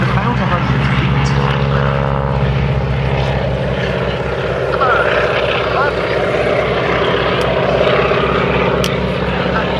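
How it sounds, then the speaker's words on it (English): A Stearman biplane with an uprated 450 horsepower Pratt & Whitney radial engine flies low at about 100 feet at an airshow, its engine giving a loud, continuous throbbing drone with a pulsing beat, heard under a commentator's voice. "The Stearman powered by an uprated 450 horsepower Pratt & Whitney radial engine."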